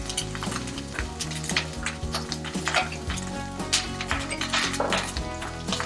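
Asafoetida and spices frying in hot ghee for Kashmiri dum aloo, a steady close sizzle with repeated scraping stirs and light clinks of a spoon against the pan throughout.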